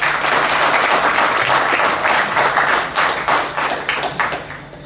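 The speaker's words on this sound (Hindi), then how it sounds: "जोरदार तालियां होनी चाहिए।" Loud, dense applause from a crowd at a foundation day and convocation ceremony, sustained clapping that thins into scattered claps near the end.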